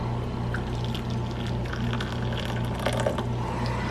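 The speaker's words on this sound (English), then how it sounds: "here comes the boiling water" Boiling water poured into a container for softening Fred Kelly Bumblebee jazz guitar thumb picks: a steady, close liquid pour with a light splashy texture over a constant low mechanical hum.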